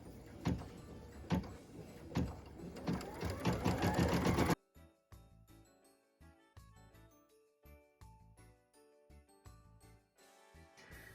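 Embroidery sewing machine stitching a word on a Christmas ornament, a fast rhythmic mechanical whir and tapping, steady and close, then quieter intermittent clicks and thumps.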